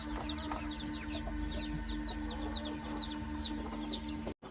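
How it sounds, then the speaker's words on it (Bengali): American silkie chickens, golden and satin, cluck and chirp softly close by in an aviary, a busy patter of short calls over a steady low hum, with no talking. "এখন আপনারা এই যে আমেরিকান সিল্কি দেখছেন এর আগে আমি গোল্ডেন পেন্টেড দেখিয়েছিলাম এটা হচ্ছে গোল্ডেন সিল্কি আর এটা একটা সাটিন সিল্কি"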